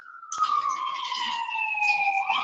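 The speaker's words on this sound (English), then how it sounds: "Oh, there go another siren." A city emergency siren passing by, its wailing tone sliding slowly downward in pitch, loud and steady throughout against faint street background.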